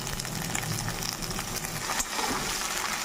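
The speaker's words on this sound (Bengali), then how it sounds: "সাদা তেল দিয়ে সবজিগুলো প্রথমে ভেজে নেব প্রথমে গাজর ভেজে নিচ্ছি" Carrots, green beans and capsicum fry in white oil as part of fried rice made for about fifty people, giving off a steady, dense sizzle that runs without a break and has no voices over it.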